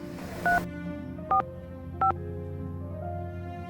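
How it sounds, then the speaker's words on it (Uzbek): A telephone number is keyed in: three short, evenly spaced touch-tone beeps, loud and close, over a faint background hum. "hozirroq telefon qilib bilib olaman"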